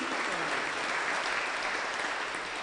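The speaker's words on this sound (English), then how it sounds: "Let's give them a round of applause, please." A church congregation at a Sunday program applauds the children, a continuous wash of clapping heard at some distance and fairly quiet.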